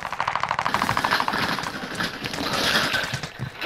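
Gunfire in a battle royale video game comes as rapid automatic bursts with rhythmic clattering over a loud, dense background of game noise, with no clear voice.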